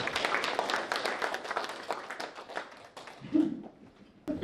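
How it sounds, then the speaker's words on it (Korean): A church congregation gives a short round of applause for a women's vocal quartet after their duet performance, moderate claps fading out after a few seconds, with a brief thump near the end. "그 은혜롭고 아름다운 특성을 해주신 네 분께 다시 한번 큰 박수 부탁드립니다"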